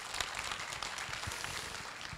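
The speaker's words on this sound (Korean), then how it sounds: "다시 한번 박수로 모시겠습니다." Audience applause welcoming the deputy prime minister at a parents' talk concert, a continuous wash of clapping at moderate distance, steady throughout.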